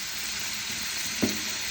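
Running water from a tap pours steadily over canned chickpeas being rinsed in a kitchen, a continuous close hiss with a brief splash near the end.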